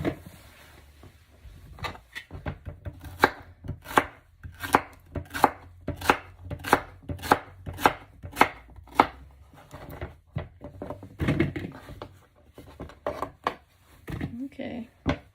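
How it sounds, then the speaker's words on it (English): A knife chops ingredients for Mexican albondigas soup on a cutting board in a steady series of sharp, close knocks, then a few looser, scraping cuts toward the end. "We're just gonna chop it. It doesn't have to be little. We want it kind of big."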